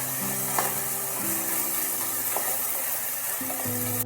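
Dal, daliya and green peas fry in a wok, a steady close sizzle with faint stirring scrapes, under a low humming tone and with no talking.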